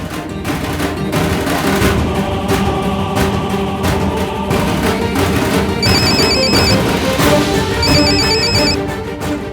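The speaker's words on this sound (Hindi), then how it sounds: "अब उसका फोन बजेगा।" A mobile phone rings with a repeating electronic ringtone in two bursts over loud, dense dramatic music, no speech in between.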